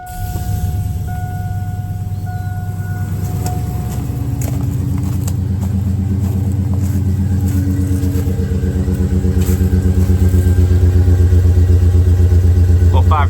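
Cold start of a GMC pickup fitted with long tube headers: the engine cranks, fires up and settles into a loud, steady, throaty idle close by, with someone talking over it.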